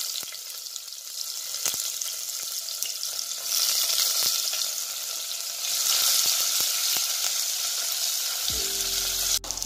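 Small onions fry in hot oil with whole spices for a mutton curry, giving a loud, steady, close sizzle throughout with occasional stirring clicks and no talking.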